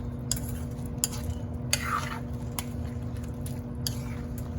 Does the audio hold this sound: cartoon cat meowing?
no